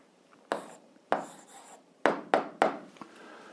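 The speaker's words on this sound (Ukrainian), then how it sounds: "записуємо відповідь, пишемо відповідь" A pen scratches briskly on paper, writing down the answer to an algebra exercise: five or six short, sharp strokes in uneven succession, close and fairly quiet, with no voices.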